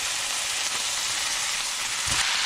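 Goose meat with onions and peppers frying in a pan over high heat, a steady bright crackling sizzle that continues throughout, with a few soft stirring bumps near the end and no talk.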